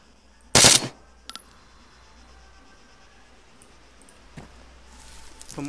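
Gunfire in the video game Arma 3, one loud close burst of shots followed by a fainter short crack and a distant shot over quiet ambient background.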